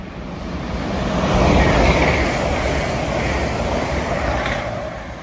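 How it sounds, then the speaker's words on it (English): Lumo train running from London King's Cross to Edinburgh speeding through a mainline station, a loud broad rushing roar that swells to a peak and slowly fades with rail clatter, close by and alone. "Right here, about to speed through, is going to be one of the Lumo services running from London King's Cross to"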